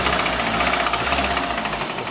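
A worn-out car engine with a bad knock runs loudly and close, a steady rapid rhythmic rattle with no talk.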